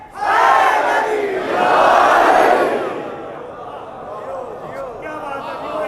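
A crowd at a religious majlis in a Shia mosque in Islampura, Lahore, loudly chants a slogan in unison, then the roar subsides into quieter murmuring.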